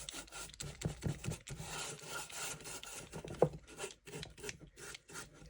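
Black finishing wax is rubbed into a wooden piece by hand, making close, steady scuffing and rasping strokes in an uneven rhythm, with one sharper knock partway through and no talking.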